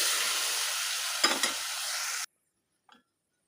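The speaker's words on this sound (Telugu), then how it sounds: "ఆ పప్పు అంతా దీంట్లో వేసేసుకోండి." Boiled lentils tipped into a sizzling tempering in a pan and stirred, for a sorrel and spinach dal: steady close frying hiss, a couple of soft thuds as the dal goes in, then sudden quiet with one faint clink.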